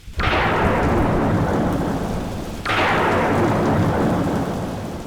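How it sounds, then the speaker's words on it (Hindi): Heavy rain pours steadily while two loud thunderclaps crash, one at the start and another about halfway through, each rolling off slowly under the continuous downpour. "भरी बरसात भी हो रही है"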